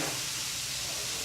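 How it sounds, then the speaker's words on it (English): Halibut cheeks fry in a pan with a steady, dense sizzling hiss, close and unbroken throughout. "So I'm going to flip them and just let them finish on the pan"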